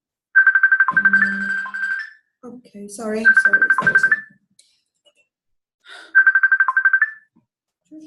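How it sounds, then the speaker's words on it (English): A mobile phone ringtone plays in three bursts of a repeating electronic warble, loud and close, while a person speaks between the rings. "Is this my phone now?"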